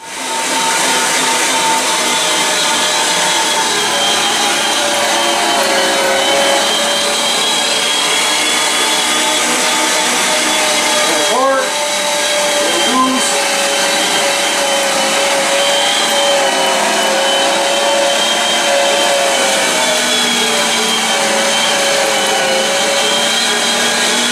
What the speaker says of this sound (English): we'll keep doing that till it's all ground up, and then we'll run it all through the grinder again